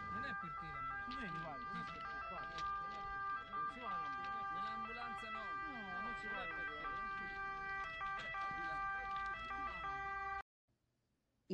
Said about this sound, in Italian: le sirene, che non erano state annunciate